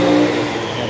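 Engine of a brand new tricycle motorcycle revving during a test, a steady loud mid-pitched drone filling the whole brief moment with no talk over it.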